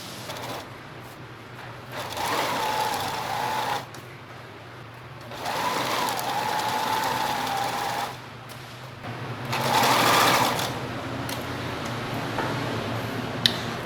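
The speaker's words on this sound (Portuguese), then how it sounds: "a gente vai para a máquina e passar uma costura reta, fazendo um quilting reto na diagonal" A sewing machine running straight diagonal quilting stitches on fabric, in three steady bursts of a few seconds each with short quiet pauses between, close and clear with no talk.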